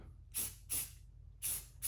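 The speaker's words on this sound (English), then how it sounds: "I'm using some gray spray primer, and I'll just go over the" Four short bursts from a can of gray spray primer onto a carved wooden duck, each a sharp hiss lasting a fraction of a second, evenly spaced and close.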